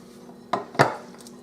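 A mixing bowl from brownie making is moved aside, giving two quick close clunks of bowl against a hard surface, with a faint clink after.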